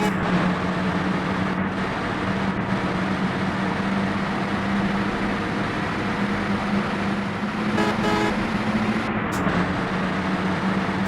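Bus Simulator Bangladesh coach running on a four-lane Dhaka–Sylhet highway: a constant, moderate engine drone with road noise, broken near the end by a short horn-like toot.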